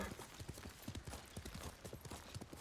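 Horse hooves clip-clopping in the video game Ghost of Tsushima, a quick steady gallop of close, even beats throughout.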